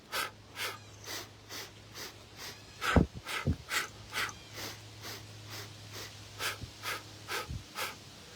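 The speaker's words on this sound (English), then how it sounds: "You're going to do the breathing in through the nose and out through the mouth." Slow, steady breathing, drawn in through the nose and let out through the mouth in a regular counted rhythm, close and fairly soft, with no speech over it.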